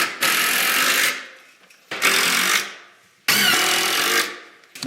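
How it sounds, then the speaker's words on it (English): A power drill drives pocket screws to pull a closet shelf down tight, heard as three loud, near bursts of whirring with brief pauses between them, each ending as the screw seats. "Now I'm just going to go ahead and suck this shelf down tight using my pocket screw holes"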